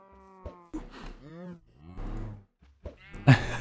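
Cows in the video game Minecraft give several short moos with gaps between them, while a person talks over them.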